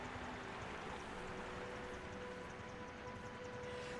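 Steady whirring rotor and engine drone of a helicopter flight in a video game, a continuous mechanical hum held at an even, quiet level throughout with no talk.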